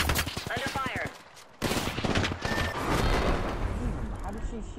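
Rapid bursts of Apex Legends gunfire crack in quick repeated volleys, loud and close, with a brief drop-out before the shooting resumes and continues densely. A voice speaks briefly during the shooting.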